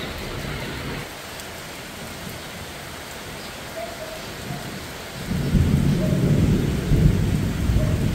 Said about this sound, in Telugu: ఇప్పుడు వాన పడుతుంది